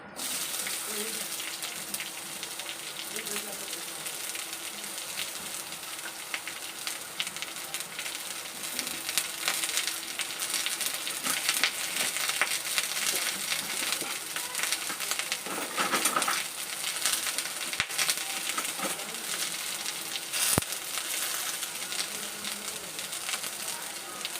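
Onion frying in a little oil in a kadhai, giving a steady hissing sizzle that runs the whole time at an even level, with a few faint scrapes of a wooden spoon.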